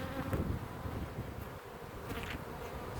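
Bees in a crowded beehive buzz in a dense, continuous drone, close and steady throughout with no voices.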